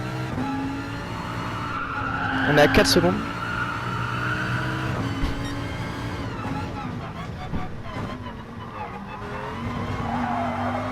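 Tires squeal and skid as a Mazda race car slides during a tense race in Brazil, under a continuous droning engine, with someone talking over it.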